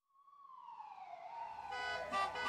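An ambulance siren in a cartoon traffic jam rises steadily from a thin, distant wail to a louder wavering tone as it approaches, with a muffled traffic rumble building underneath.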